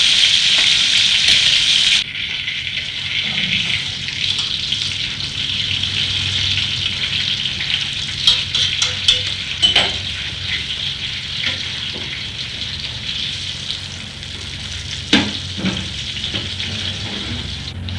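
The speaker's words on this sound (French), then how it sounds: "nous l'avons fait revenir ensuite au beurre bien mousseux" Pieces of poularde brown in foaming butter with a continuous loud sizzle and bubbling, and scattered scrapes and knocks come through as the pieces are turned.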